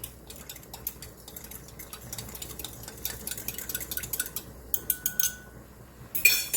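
A whisk beats a cornstarch slurry in a bowl, making quick, uneven clicking taps that grow denser and louder toward the end.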